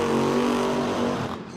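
A drag racing car sponsored by Summit Racing Equipment roars past, a loud sustained engine tone that holds steady, then fades and drops off near the end as it moves away.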